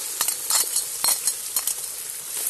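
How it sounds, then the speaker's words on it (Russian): Liver and onion fry in a cauldron over a campfire, giving a continuous close sizzle broken by scraping stirs of a utensil against the pot. "Печень с луком жарится"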